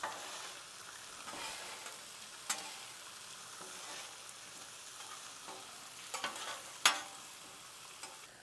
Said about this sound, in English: For your tater tots, every few minutes, just toss them around till they're golden brown on every side.